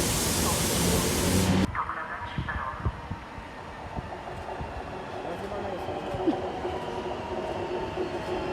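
Train on the railway in Kraków: a loud burst of rushing noise cuts off early, leaving a steady rumbling roll with rhythmic clacks of wheels over rail joints, fairly close and continuous.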